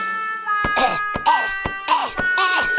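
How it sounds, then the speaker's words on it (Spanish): A cartoon villain coughs repeatedly in harsh, rapid bursts, loud and close, over a sustained musical tone. "¡Tose muchísimo!"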